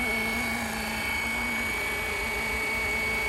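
Flywing RC helicopter hovering in ATTI mode, a steady near whine of rotor and motor with constant tonal hum, unbroken throughout.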